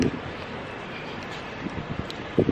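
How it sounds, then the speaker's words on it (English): Steady wind rushing and buffeting against the microphone, with a few brief gusty thumps near the end and no talking. "it's very windy"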